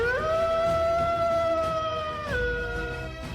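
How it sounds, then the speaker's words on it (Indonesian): A wolf king's drawn-out howl for an animated story, a single loud rising-then-steady wail that breaks and drops near the end, heard alone with no talk. "suara lolongan dari Wolf King sontak membuat Tang Lei dan Zhao Zeng teralihkan"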